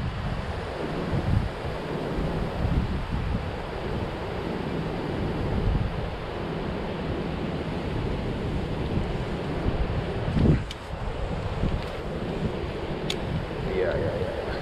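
Steady wind gusting over open water at a fishing spot on a canal, with faint lapping waves; a constant broadband rush throughout, a brief louder gust midway, and some low talk underneath.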